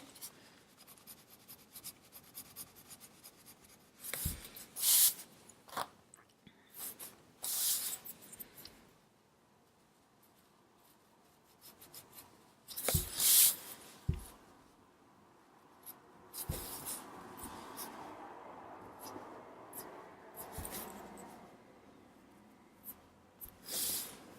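A colored pencil scratches and rubs across paper while blending a drawing, giving faint, close strokes in irregular bursts with quiet pauses and occasional sharper scrapes, with no talk.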